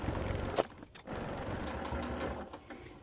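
A sewing machine runs steadily while stitching a cathedral window quilt square made from 5-inch charm squares, a close, continuous whirring hum with one brief pause near the start.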